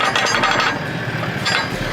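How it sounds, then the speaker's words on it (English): Jockey wheel holder on a Titanium HS2 hybrid caravan rattling over outback corrugated dirt road, a loud, steady, rapid metallic clatter with heavy low road rumble throughout, no voices. "Oh, you reckon that's what's rattling? Yeah, the jockey wheel holder."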